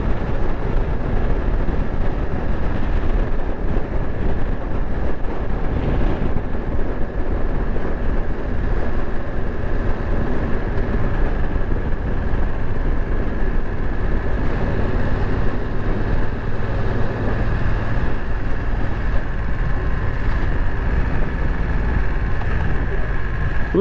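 A BMW F900 XR V-twin motorcycle rides at speed, a constant loud engine drone mixed with wind roar, heard close up without a break.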